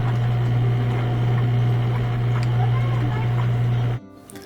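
A Maytag top-load washing machine agitating a small load, a steady low hum with faint sloshing and clicks, constant and close before cutting off abruptly near the end.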